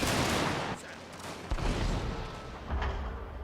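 Rifle volleys and cannon fire in a Total War-style battle game crackle in dense bursts, with heavy booms at intervals in short succession and a roaring, noisy battlefield wash around them.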